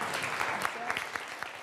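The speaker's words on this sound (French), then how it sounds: "Des applaudissements qui réconfortent la jeune chef." Audience applause for a young chef, a steady patter of many hands clapping at moderate distance, fairly faint and continuous.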